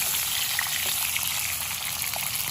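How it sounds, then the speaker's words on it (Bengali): Pointed gourd (potol) pieces frying in hot oil on high flame in a kadai, a steady, even sizzle that holds at a moderate level throughout with no voices. "এই পটল কটাও আমি হাই ফ্লেমে ভেজে নেব"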